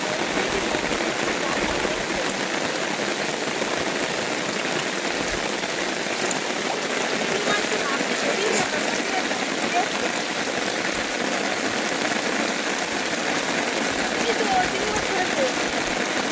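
Heavy rain pours on a river during net fishing, a dense, steady hiss of drops that holds evenly loud from start to finish.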